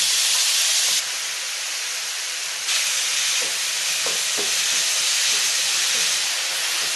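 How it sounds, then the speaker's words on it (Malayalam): Beetroot and shallots are sautéed in a pan, producing a loud continuous steamy hiss that briefly drops and swells, with a few faint scraping stirs near the end. "ബീട്രൂട്ടിൻ്റെ പച്ചമണം മാറുന്നത് വരെ വഴറ്റണം"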